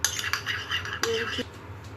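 Pumpkin and minced pork stirred with mayonnaise in a bowl, a spoon scraping and clinking against the sides in quick close strokes, with a brief low tone partway through and no talking.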